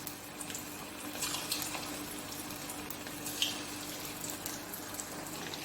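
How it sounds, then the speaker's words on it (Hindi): Beef kofta frying in oil in a pan, a quiet, even hiss with faint scattered pops and crackles, no voices. "ये देखें अच्छी तरह ये फ्राई हो रहे हैं"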